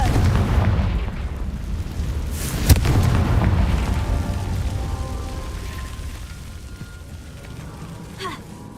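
One loud Confringo fire spell blast in the game Hogwarts Legacy booms out sharply and fades into a rumbling decay, with a fainter pop later over low background game ambience.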